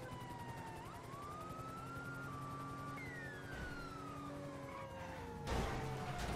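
A wailing police siren in GTA 5 sweeps up and down continuously over engine hum, ending with a sudden burst of noisy clatter.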